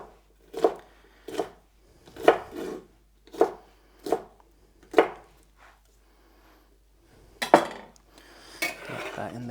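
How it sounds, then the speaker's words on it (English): A knife chops vegetables into little cubes on a board, with about eight crisp, evenly spaced chops up close followed by some scraping and clatter. "and then cut across into little cubes"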